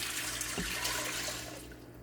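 Water pours steadily into a pot for cooking beans, a continuous broadband rush with no talk, tapering off slightly toward the end.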